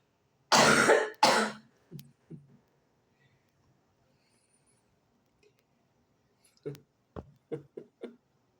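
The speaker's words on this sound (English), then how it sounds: "Coughing." A person coughs two loud, harsh times close by, followed by softer throat sounds, a long quiet stretch, then a run of short, lighter coughs near the end, late at night in December.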